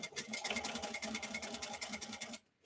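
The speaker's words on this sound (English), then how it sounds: "now I'm going to sew right up against my Peltex" A sewing machine stitches a bag seam right up against stiff Peltex interfacing, a fast, even run of rapid needle clatter for a couple of seconds before stopping abruptly.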